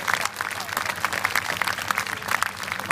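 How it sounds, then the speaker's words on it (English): Crowd applause for volunteers at a mock battle event at Bovington, a loose outdoor patter of many hands clapping with uneven bursts, moderately loud, mixed with some voices. "give them a good round of applause"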